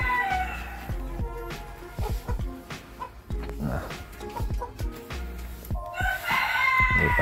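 Bantam Cochin chickens in a coop at an ornamental poultry farm, with roosters crowing loudly and hens clucking steadily nearby, plus an occasional dog bark mixed into the busy barnyard noise.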